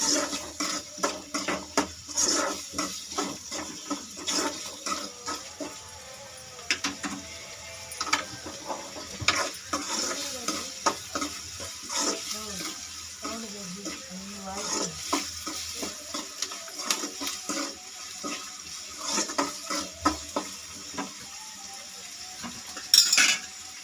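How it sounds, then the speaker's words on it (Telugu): Onions frying with salt until light brown for a boiled egg fry, a loud steady sizzle under repeated metal scraping and clinking of a spatula against the pan. "లైట్ బ్రౌన్ వచ్చేంత వరకు ఆనియన్స్ ఫ్రై చేసుకోవాలి."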